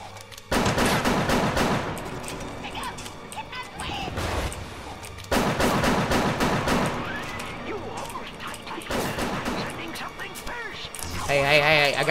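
Bursts of gunfire from Bioshock, repeated loud volleys in rapid clusters with brief gaps, with someone talking over the shooting.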